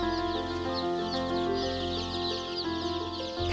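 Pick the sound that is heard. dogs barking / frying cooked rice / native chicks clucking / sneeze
native chicks clucking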